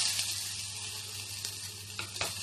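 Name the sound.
onions frying in a pan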